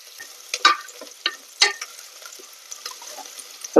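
Onions frying in a pan until golden brown, a soft steady sizzle with a few scraping stirs of a spoon, close by, with no talking.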